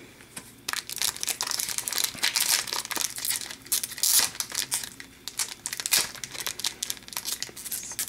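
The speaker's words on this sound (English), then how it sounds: "Pack must have a rare card, it doesn't want to open up" A Tim Hortons hockey card pack wrapper crinkles and tears in close, continuous bursts of crackling plastic as it resists being pulled open, with no talking.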